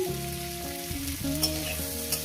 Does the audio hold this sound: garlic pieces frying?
yes